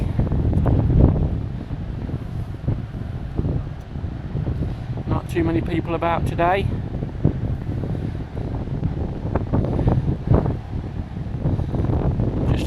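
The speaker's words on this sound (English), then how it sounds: "Still windy." Wind blowing over a bay viewpoint on the coast near Filey Brigg, a constant rough rumble buffeting the microphone throughout, with someone speaking briefly over it.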